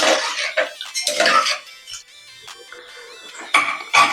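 A spoon stirring poha with salt and water in a metal pot, sounding as a run of clanks and scrapes against the pot with some wet sloshing, busy at first, then quieter, with a few louder knocks near the end.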